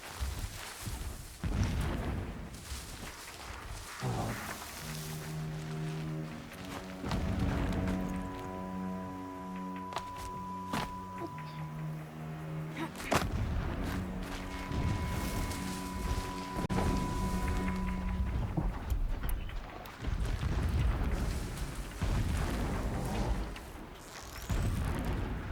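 Distant explosions rumble as low booms across a Horizon Zero Dawn game scene, recurring under steady musical tones and ambient game sound, with no speech heard.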